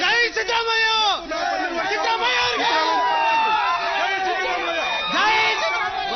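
A dense crowd of supporters at Siddaramaiah's birthday gathering, with many overlapping voices shouting and calling out in a loud continuous babble, close and energetic, with occasional whoops rising above the din.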